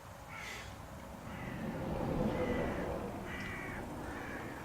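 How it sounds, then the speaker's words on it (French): Crow cawing inside an abandoned barn in a meadow, several hoarse calls spaced out over a few seconds, moderately distant above a low rumbling background. "Ouais, seul oiseau là."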